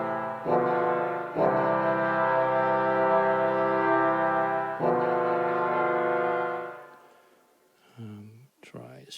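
Sustained brass ensemble chords from an orchestral sample library, held bright and full, restruck twice before fading out, followed by brief talking at the end.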